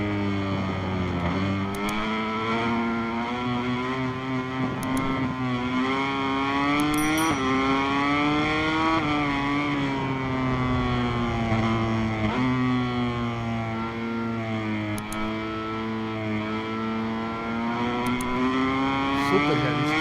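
Honda MotoGP racing motorcycle engine in the MotoGP 23 video game, heard from a helmet camera view as a loud, continuous high-pitched roar that rises and falls through gear changes over twenty seconds, with no talking.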